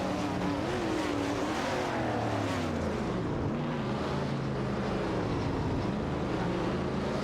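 Race cars in a video game, a Shelby GT350 and a Chevrolet Nova SS battling closely, with continuous loud engine roar and shifting, wavering pitch as they rev and jostle.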